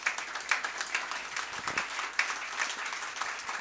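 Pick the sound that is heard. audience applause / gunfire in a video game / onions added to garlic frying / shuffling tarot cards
audience applause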